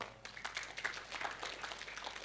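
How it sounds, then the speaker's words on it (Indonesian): A church congregation at a Sunday service claps together: faint, steady, distant-sounding applause of many hands with no voices over it. "Tepuk tangan dulu."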